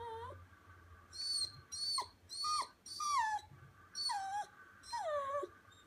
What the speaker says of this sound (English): My dog is whinging, as usual.